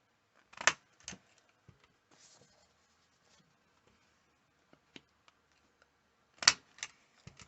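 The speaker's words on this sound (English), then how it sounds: "grab my We Are Memory Keepers Crocodile Corner Chomper, and I'm going to use that 1/2 inch side" A We Are Memory Keepers Crocodile Corner Chomper rounds paper corners on its half-inch side, giving crisp snapping clicks in pairs separated by quiet, with faint handling taps between.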